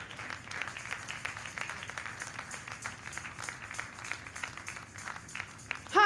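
A church congregation claps in acclamation of the Lord, a steady, fairly faint patter of many hands with a louder swell at the very end and a voice speaking over it.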